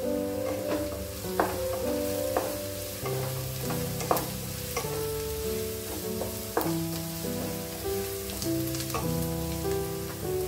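Curry leaves and onions fry in a pan with a soft, steady sizzle and occasional stirring scrapes, fairly quiet beneath louder background music.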